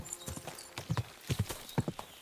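Video game horse hooves clip-clop along a trail in a steady, paired rhythm, close and clear, with a faint voice briefly in the background.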